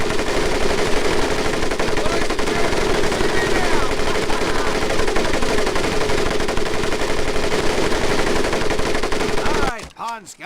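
An M1919A4 .30 caliber machine gun fires in Medal of Honor: Pacific Assault training, a loud, sustained stream of rapid shots that fills nearly the whole stretch and cuts off abruptly near the end.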